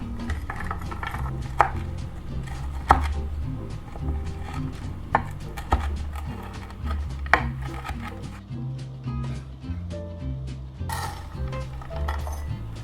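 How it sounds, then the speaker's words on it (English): Candied ginger being chopped into bite-sized pieces on a board, a run of close knife taps with uneven rhythm and a few sharper clinks, with no talking. "let's chop up our candied ginger, because we're gonna do this into bite-sized pieces"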